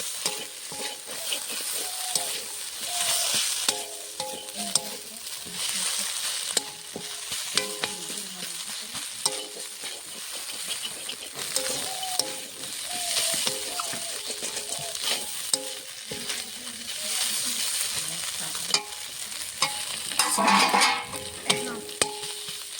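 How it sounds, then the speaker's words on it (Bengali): Taki fish frying in a pan sizzles steadily while a spatula stirs and scrapes it in repeated strokes, close and continuous, with a louder burst of scraping near the end. "মাছটা ঢেলে দিয়েছি, সম্পূর্ণ মাছ।"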